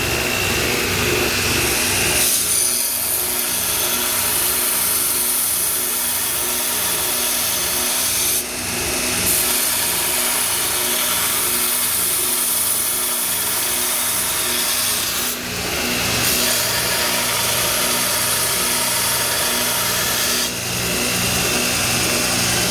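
An Ameribrade belt grinder runs steadily and loudly, with a dense rough grinding roar of the abrasive belt against metal on the contact wheel. Brief dips come as the workpiece lifts off, then the grinding resumes, close and with no talking.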